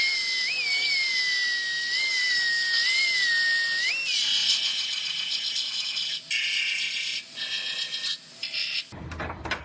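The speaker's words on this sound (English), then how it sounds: "So I'm going to drill out those few welds" A high-pitched drill whines steadily, its pitch dipping and rising as it bites into metal to drill out spot welds on a Subaru, with grinding and rattling through the middle before stopping abruptly.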